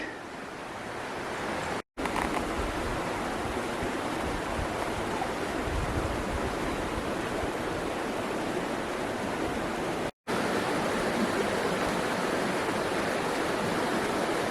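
Steady, rushing water of a river near Mt Somers, New Zealand, flows continuously, a dense broadband roar like a fast river close by, with no voices.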